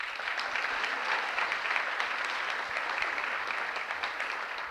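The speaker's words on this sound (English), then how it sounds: "My mother loves that you just clapped." An audience at a high school class night ceremony applauds, a dense, steady wash of many hands clapping throughout, fairly close and evenly loud.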